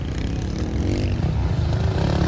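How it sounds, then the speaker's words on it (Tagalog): A small 85cc racing motorcycle engine drones at steady revs, a mid-distance buzzing hum with some clatter, holding fairly even without speech. "Ano bang motor ni Zaira dito? Mukhang 85cc ata to eh."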